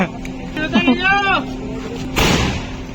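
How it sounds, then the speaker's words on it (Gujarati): At an outdoor birthday celebration, people talk and call out, then a single sharp firecracker burst cracks loudly near the end, followed by a short crackling tail. "આ બાજુ ફટાકડા ફૂટા છે"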